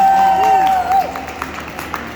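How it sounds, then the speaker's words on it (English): Applause from an audience at a sideshow act at an oddities expo, a steady wash of clapping with some cheering mixed in, heard under a sustained tonal sound and a voice. "Round of applause."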